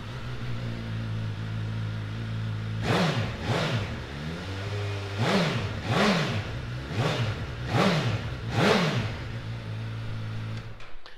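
A 2015 Suzuki GSX-S1000F motorcycle idles steadily, then gets several sharp throttle blips, about five rising and falling revs at regular intervals. The engine is close and loud and plays alone, with no talking.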